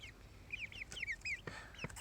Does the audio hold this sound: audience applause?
no